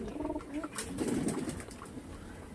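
A Lambadi pigeon coos in a few soft, throaty rolling calls close by, with faint rustling and a brief flutter in the background.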